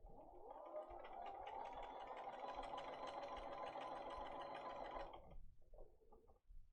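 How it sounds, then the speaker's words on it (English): A sewing machine stitches quilt pieces in one steady, fast whirring run of about five seconds, then stops, leaving a few soft handling sounds in a quiet room. "we're going to lift our pressure foot, and we're going to sew on line 1."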